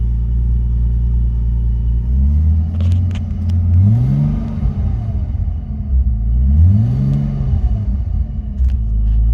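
A car engine idles with a slight misfire, a loud low rumble that rises and falls in two revving swells, with no talk.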